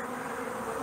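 Steady, close buzzing of many stingless bees in Newfoundland, a continuous droning hum with no voices.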